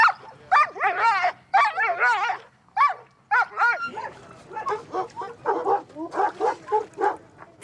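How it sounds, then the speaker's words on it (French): Sled dogs gather on a freezing early morning before a race across the Spanish Pyrenees, filling the air with a near chorus of excited barks, yips and whimpers, with a voice faintly underneath. "une course de traîneaux à chiens qui traverse les Pyrénées espagnoles"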